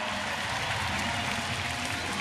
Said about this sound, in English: So one more round of applause for AJ Pierzynski